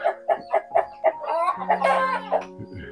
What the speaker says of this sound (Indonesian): ini semua ayam-ayam ini milik Pak Pardo.